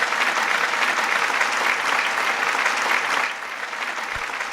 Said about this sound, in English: we got to pull up the hand clap for this